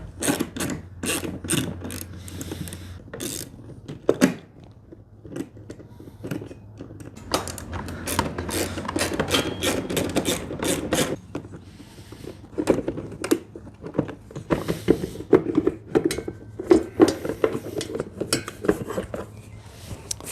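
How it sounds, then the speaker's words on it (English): A 3/8 inch socket ratchet removing four bolts from the black shroud of a Timemaster mower gives rapid bursts of clicking pawl ticks, loud and close, in repeated runs separated by short pauses and occasional metallic handling clatter. "You just need a 3/8 inch socket. There's 4 bolts that hold this black shroud on."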